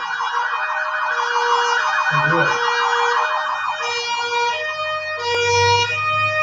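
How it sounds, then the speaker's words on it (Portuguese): An ambulance siren wails loudly in a steady repeating rising-and-falling pattern, passing close by, with a brief low rumble of road traffic beneath it and someone speaking briefly. "Deixa eu passar uma ambulância aqui."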